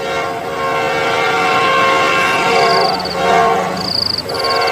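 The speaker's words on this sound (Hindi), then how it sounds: "ट्रेन की आवाज भी अब तेज हो जाती है।" Train approaching on railway tracks, a loud continuous rumble and roar that swells, with brief high whistle-like tones near the end.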